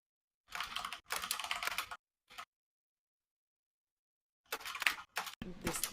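Fast, hard keystrokes clatter on a computer keyboard in two bursts separated by a short pause and one brief tap, close and crisp against silence.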